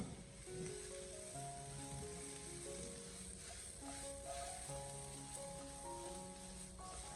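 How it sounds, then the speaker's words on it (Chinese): Salted chili peppers are stir-fried in a pan until lightly blistered, producing a faint, steady sizzle and hiss under prominent background music. "最后，我们将辣椒给它持续的煸炒至微微的起虎皮就可以"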